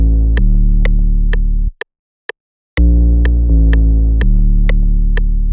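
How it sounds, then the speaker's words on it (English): A single programmed 808 bass pattern plays a deep, sustained booming tone with a steady ticking accent on top, cut by a brief gap near the middle, loud and with no voices. "we basically have this single 808 pattern on top as the call"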